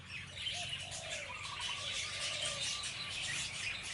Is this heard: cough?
no